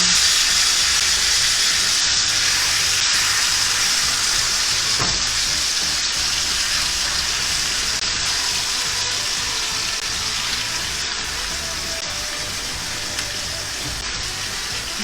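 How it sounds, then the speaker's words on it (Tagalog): Tilapia fries in olive oil with butter, a loud, dense, continuous sizzle and crackle heard up close, with a faint thump partway through and no talking. "ngayon priprituhin na natin ang ating tilapia sa olive oil na may butter"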